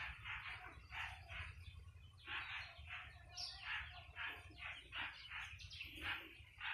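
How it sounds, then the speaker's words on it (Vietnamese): Baby birds chirping near their nest in a tree: repeated bursts of thin, high chirps in quick clusters, fairly close, over a low steady background hum. "Chim con bắt đầu nó rời tổ rồi."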